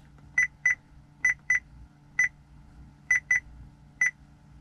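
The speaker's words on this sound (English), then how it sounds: "I'm going to have to figure out how to turn off that beeping, because that beeping is annoying." Warning chime from a Volvo S60 car interior, eight sharp electronic beeps in irregular pairs and singles over a low cabin hum, close and clear.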